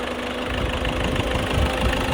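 A 2015 Ford EcoSport's engine idling with the air conditioning running, a steady close rumble with a light ticking pulse and faint whine, alone without voices.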